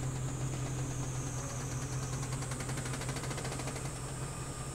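A 2006 Daihatsu Hijet deck van, a UK import, runs with a steady, close engine drone and a faint rhythmic ticking throughout, no talking.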